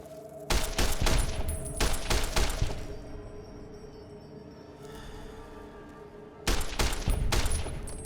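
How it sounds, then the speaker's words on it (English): Service Rifle gunfire in Fallout: New Vegas, two loud bursts of rapid shots with sharp cracks and ringing echoes, separated by a quieter stretch of game ambience. "Service Rifle is a pretty good gun"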